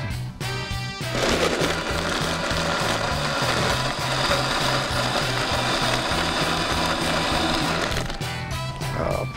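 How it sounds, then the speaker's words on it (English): A blender whirs loudly and steadily for several seconds at a tailgate, mixing a vodka cocktail, with a rhythmic mechanical chop under the motor before it stops. "So just in a blender right here, we're gonna blend it up."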